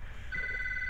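An electronic telephone ring starts partway through, a steady two-tone warble repeating close and clear over a low background hum during Minecraft play.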